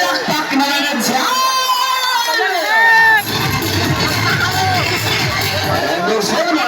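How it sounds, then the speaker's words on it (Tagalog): A crowd at a barangay acrobatics show cheers, whoops and shouts loudly, with children's voices rising in excited calls before clapping and lively babble take over. "Ay, palakpak na lang dyan."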